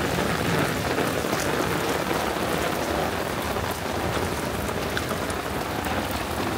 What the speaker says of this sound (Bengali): বৃষ্টির স্পিড কিছুটা কমছে